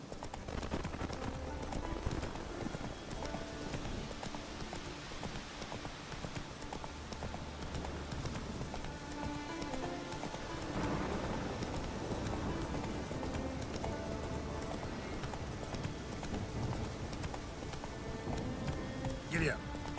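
Hoofbeats of a galloping horse in The Witcher 3: Wild Hunt, steady clip-clop running throughout under game music and a rider's voice urging it on, with characters talking.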